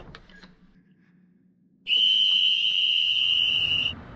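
A character in the 2008 game Sherlock Holmes: The Awakened gives a loud, sustained high whistle lasting about two seconds, preceded by quiet ambient game sound with faint clicks.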